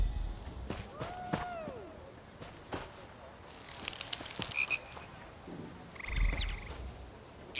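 Frogs croak repeatedly in a video game before a dockside frog race, scattered calls near and far amid rustling game ambience and brief voices.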